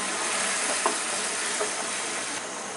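Minced garlic tempering poured into hot oil for a beef nehari paya curry, a steady bright sizzle and hiss with a couple of soft stirring clinks, heard alone without speech.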